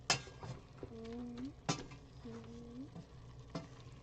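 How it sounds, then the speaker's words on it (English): Food being stirred in a hot pan, with a soft continuous sizzle under a few sharp scraping strokes and a couple of brief tonal squeaks from the utensil, fairly close and moderately loud. "we're going to stir this about one more time"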